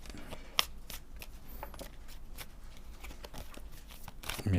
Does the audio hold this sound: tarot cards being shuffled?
yes